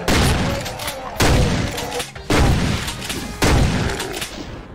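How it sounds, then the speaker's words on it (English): Chain gun fire in the video game Doom, three loud sustained bursts of rapid gunfire with short pauses between them, punctuated by booming impacts, up close and without talk. "Oh, I've got the chain gun."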